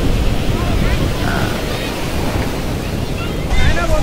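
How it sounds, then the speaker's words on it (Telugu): Big ocean waves crash on a Goa beach, a loud continuous roar of surf mixed with wind buffeting the microphone, with faint voices in the background. "అదే చాలా పెద్ద పెద్దగా వస్తున్నాయి అలలు ఇక్కడ"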